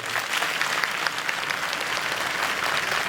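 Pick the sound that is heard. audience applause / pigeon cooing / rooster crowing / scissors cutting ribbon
audience applause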